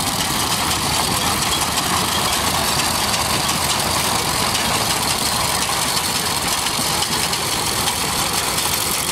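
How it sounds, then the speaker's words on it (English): A hay baler runs at a steam and gas engine show, its engine droning in a loud, continuous, even roar at close range with no clear breaks and no talking. "they just started this machine here, which I believe is called a hay baler."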